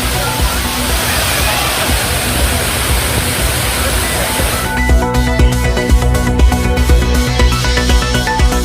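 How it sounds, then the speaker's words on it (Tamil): Roaring waterfall water at the Main Falls and Five Falls, a dense, steady rushing roar that continues throughout, with music-like tones joining over it partway through. "மெயினருவி மற்றும் ஐந்தருவியில் ஆர்ப்பரிக்கும் நீர்."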